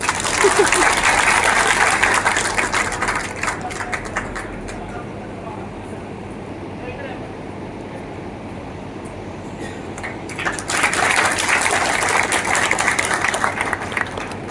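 An audience applauding at a stage event, a loud, dense wash of clapping that fades down in the middle and swells again near the end, with a voice speaking over it.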